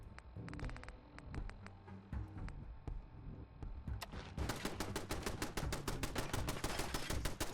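Rapid bursts of pistol gunfire from the Bat's Enhanced pistol in the Fallout 4 video game, a string of sharp shots that grows into a dense, loud, steady volley over busy game sound.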